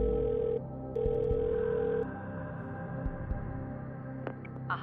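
A telephone rings for the phone-a-friend lifeline on a TV quiz game, a sustained electronic tone that breaks off briefly and resumes over tense background music.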